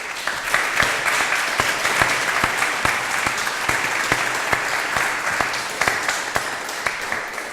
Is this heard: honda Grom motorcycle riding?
no